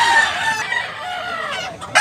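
A golden bulik gamecock, a yellow legend bull stag at a Tabunok, Talisay, Cebu rooster market, gives a loud, close crow with a drawn-out, wavering call and a sharp clip at the end.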